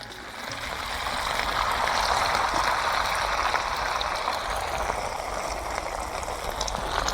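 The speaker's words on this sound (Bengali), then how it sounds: "এবার পকোড়াগুলো তেলে ছেড়ে দিচ্ছি" Pakoras dropped one by one into hot oil in a wok give a steady, moderately loud bubbling frying hiss that swells early and holds evenly, with no voices.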